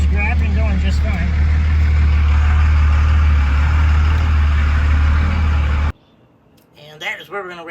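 Cummins diesel truck fitted with big injectors pulling hard through the gears, a loud sustained roaring drone with voices over it that cuts off abruptly, leaving quiet talk.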